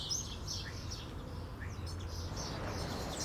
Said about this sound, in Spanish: es una zona en la que puedes escuchar hasta los pájaros cantar